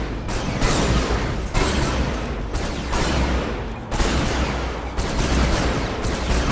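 Zone troopers firing on a building in the Command & Conquer 3: Tiberium Wars game: a dense, loud, continuous barrage of weapon fire and mechanical clatter, pulsing in waves with no pause.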